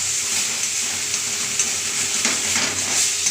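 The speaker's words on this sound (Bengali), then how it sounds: "পেঁয়াজটার সঙ্গে ভালো করে ভাজবো এটাকে।" Raw bean paste ground with onions fries and is stirred in a pan, a steady close sizzle with soft scraping strokes throughout, no voices.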